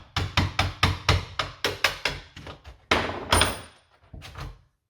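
Sharp metallic taps strike an interior door hinge in a steady series to knock the hinge pin loose, ending in a few scraping, sliding clunks as the pin pops out.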